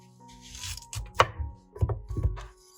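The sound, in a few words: chopping onions with a knife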